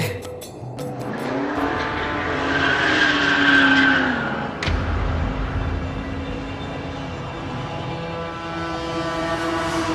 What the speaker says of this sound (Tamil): வண்டி வந்துருச்சு.